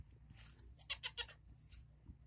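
Three quick bleats from a goat nearby, in a rapid little burst, with a softer call trailing after over low background rumble.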